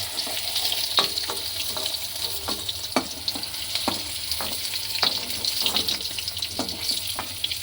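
Food sizzles steadily in a hot pan, with a bright crackling hiss and repeated scraping clinks from a utensil moving through it.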